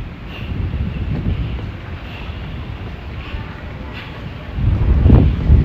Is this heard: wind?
yes